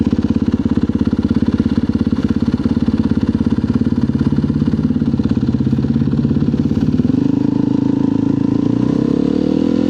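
A motorcycle rides along a street, the engine a loud, steady rumbling drone close to the rider that shifts in pitch near the end as the bike changes speed.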